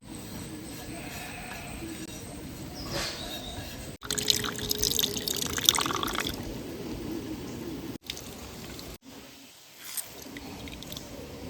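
Grated coconut squeezed by hand to press out coconut milk for a jackfruit curry, giving wet squelching and steady dripping and splashing of liquid, growing louder in the middle with a few short pauses.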